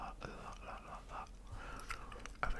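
Soft, close-up gum chewing mixed with quiet whispering, with moist smacking and clicking sounds that repeat in an uneven rhythm at low volume.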